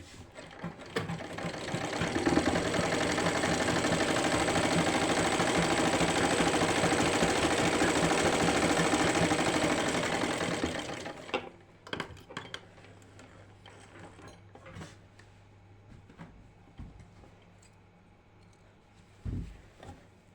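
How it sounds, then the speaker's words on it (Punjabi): A sewing machine stitches an unlined salwar in a fast, steady whirring run for about ten seconds, then stops, leaving scattered clicks and fabric handling sounds close by. "ਆਪਾਂ ਅੱਧੇ ਦੇ ਪੈਰ ਦੀ ਇਸ ਤਰ੍ਹਾਂ ਪੂਰੀ ਸਲਾਈ ਲਾ ਲੈਣੀ ਹੈ"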